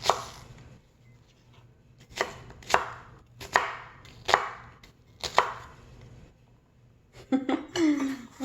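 Knife chopping ingredients for a pasta sauce on a board, five distinct heavy chops spaced about a second apart, close and crisp, followed by a brief rustle of food being moved at the end.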